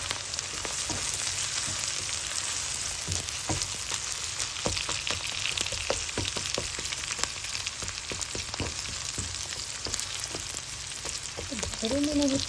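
Chopped garlic and onion sizzle steadily in hot oil for a koi fish curry, a dense continuous frying hiss with occasional sharp crackles and spatula scrapes, close and fairly loud.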